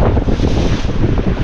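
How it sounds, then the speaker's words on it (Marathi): Sea waves slap and crash against a small boat out on the open sea off Malvan, a dense rushing wash buried in heavy wind buffeting close to the microphone. "समुद्र आपटत धाड धाड"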